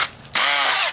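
A power drill whirs up to speed with a 1/8-inch bit, pre-drilling a hole for framing a Fresnel lens solar oven; a short burst, then a steady, loud high whine that cuts off near the end.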